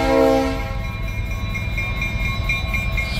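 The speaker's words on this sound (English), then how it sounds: "Over here, we've got one of my favorite locomotives, SD50 Chicago Northwestern" A Chicago and North Western SD50 diesel locomotive rumbles loud and close, its horn sounding briefly at the start, then a steady heavy engine drone with rhythmic ringing of the bell.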